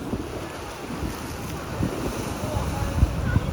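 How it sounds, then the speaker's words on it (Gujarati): Sea waves roll in at Gomti Ghat in Dwarka, a rough, continuous surge of surf buffeted by strong wind gusting across the microphone, with a few thumps of water breaking nearby. "દરિયામાંથી મોજા આવે નહીં જોવો તમે."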